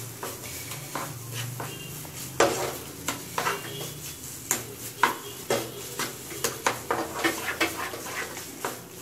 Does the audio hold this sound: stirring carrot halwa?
yes